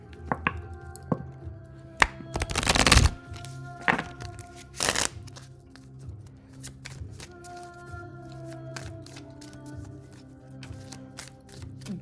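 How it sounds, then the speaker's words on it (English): A full deck of tarot cards is shuffled in a few quick, loud riffling bursts around the middle, with faint tapping and handling sounds between them over a quiet room background. "We'll see if it comes out when I shuffle the full deck."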